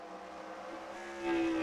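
IROC race cars in NASCAR Racing 2003, a sustained engine drone that rises into a louder whine near the end.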